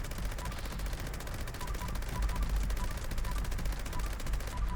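A heavy gun in Fallout 76 firing in a rapid, continuous stream of shots, loud and sustained, with dense rattling bursts and a low rumble underneath.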